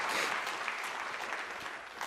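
A church congregation at a Sunday worship service claps for its teachers and ministers, a soft, even applause from a fairly distant crowd with one sharper clap at the end.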